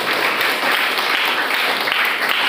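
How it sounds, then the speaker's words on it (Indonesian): Students in a class applaud, a dense, steady burst of clapping from many hands, fairly loud and close throughout the short moment. "Tepuk tangan bagi itu."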